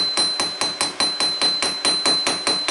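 A blacksmith's hammer strikes hot steel while forging a round and flat taper, about a dozen moderate, evenly spaced ringing blows close up, each with a bright metallic ping and no voices.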